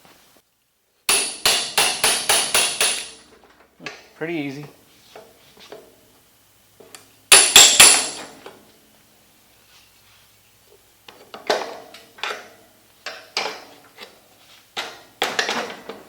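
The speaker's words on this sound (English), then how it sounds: "let's go get a hammer or a chisel or something and knock that wood out of there" Rapid bursts of sharp metallic hammer blows in quick runs, knocking wood out while installing a thrust bearing, separated by pauses, with a brief spoken comment in between.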